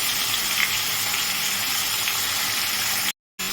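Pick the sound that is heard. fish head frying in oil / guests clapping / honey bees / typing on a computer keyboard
fish head frying in oil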